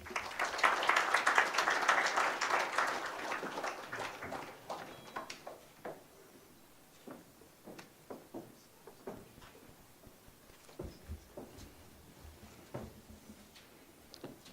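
An audience at a morning session of a national conversation on accountability frameworks applauds the Minister of State for Budget and Planning: loud, dense clapping for about four seconds that thins into scattered individual claps and fades out.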